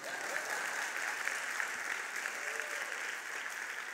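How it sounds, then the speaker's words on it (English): A church gathering audience claps in a steady, even round of applause that stays constant and moderately loud for its whole short length. "Give another round of applause."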